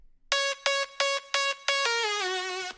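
A bright synth lead preset from a Silent Echo Soundworks pack plays five short, evenly spaced staccato notes, then holds a longer note that wobbles with strong vibrato as it slides down, loud and alone.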